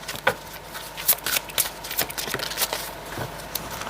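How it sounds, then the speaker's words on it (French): Oracle cards being shuffled and drawn by hand, a rapid run of crisp papery riffles and flicks with several sharper snaps, close and fairly quiet, no talking. "Et on va prendre une dernière carte."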